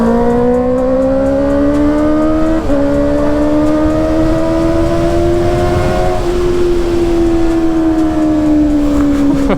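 A Kawasaki ZX motorcycle with a noisy exhaust holds a loud, close, continuous engine drone whose pitch drops twice and then rises slowly, with no voices over it.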